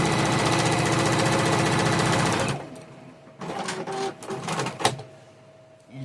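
A sewing machine runs steadily as it stitches star sections of a quilt, a fast continuous motorized whir for about two and a half seconds that stops abruptly, followed by quieter handling noises and faint clicks.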